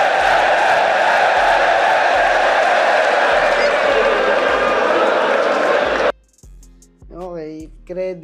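A rap battle crowd roars and cheers loudly for about six seconds in reaction to a line, then cuts off abruptly and a voice speaks alone.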